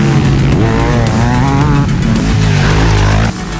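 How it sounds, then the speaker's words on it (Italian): Several motocross motorcycle engines scream at high revs while racing through mud, overlapping and loud, their pitches rising and shifting as they accelerate hard together. "Le moto schizzano via come proiettili impazziti."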